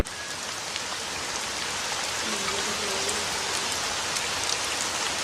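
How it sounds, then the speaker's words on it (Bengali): Heavy rain pours steadily, a dense continuous hiss of drops hitting surfaces with no pauses and no voices. "বাইরে অনেক বৃষ্টি, আবার বিদ্যুৎও চমকাইতেছে"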